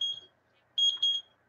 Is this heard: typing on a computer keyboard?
no